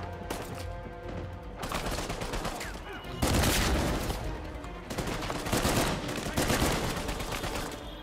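Sustained automatic gunfire from a gun in the video game Uncharted 4 rattles in dense bursts, loud and close, with brief pauses between volleys and game sound underneath.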